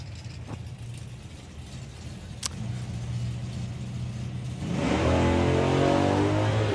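A Ragtop GTO and a Duster drag racing car idle at a steady low rumble, a sharp click punctuates, then an engine roars loudly into a sustained launch down the strip.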